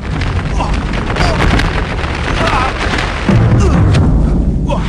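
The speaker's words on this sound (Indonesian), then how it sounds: "dua kekuatan itu beradu dan mengeluarkan bunyi ledakan yang sangat keras" A loud, dense rumble of a magical clash between two powerful forces in an Indonesian legend drama, with a heavy boom swelling in the middle and a deeper blast near the end, sustained and close throughout.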